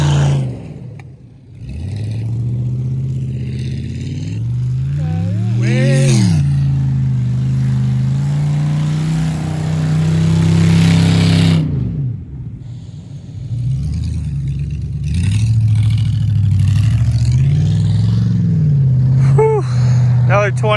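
A car engine revs and roars loudly and close, pushing a boat toward a fire pit. Its pitch climbs and falls through repeated throttle surges across the whole stretch, and people talk over the engine.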